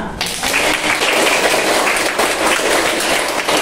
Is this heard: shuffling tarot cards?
no